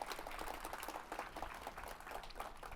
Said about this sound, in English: let's give a round of applause to Eric